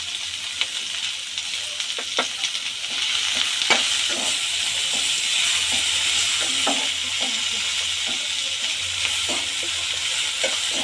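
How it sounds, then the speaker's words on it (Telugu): Vegetables with beans fry lightly in a pan, giving a steady broadband sizzle with occasional soft utensil taps across the whole stretch, moderately loud and without talk. "లైట్గా ఫ్రై చేసుకోవాలండి."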